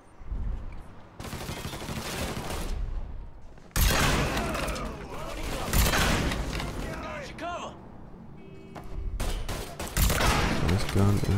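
Gunfire in the video game Mafia 3, sustained loud bursts of automatic shots and heavy impacts rolling almost continuously, with a voice talking over the fighting.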